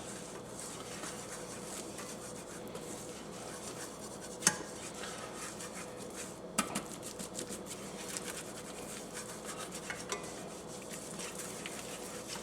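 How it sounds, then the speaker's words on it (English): A whisk stirs flour into melted butter in a pan over medium-high heat, a soft continuous scratching swirl broken by a few light clinks against the metal, close and quiet. "we're going to slowly whisk in our flour"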